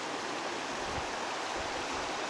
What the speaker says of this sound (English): This river moves back and forth quite often, and it raises a lot in the winter.